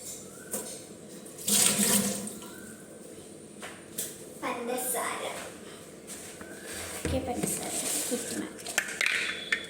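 Tap water runs steadily into a sink while hands splash and rub under it, with a person talking quietly over the flow.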